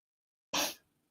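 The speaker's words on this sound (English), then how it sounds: "Sorry, guys, I got to sneeze." A single sharp sneeze bursts out after a moment of silence, loud and close, trailing off into a brief breathy tail.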